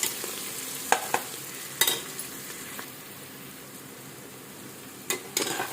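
Softening tomatoes fry in a pan for a beetroot bhaji, a soft continuous sizzle with a few sharp utensil clicks and scrapes as they are stirred now and then.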